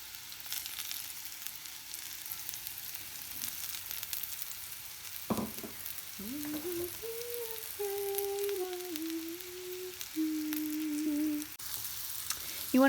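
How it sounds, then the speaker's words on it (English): Mushrooms fry in oil in a pan over medium heat, reusing the oil from broccoli, with a steady close sizzle throughout; a short whistling, wavering tone rises and drifts above it midway. "I'm going to cook them in exactly the same pan and exactly the same oil as I cooked the broccoli."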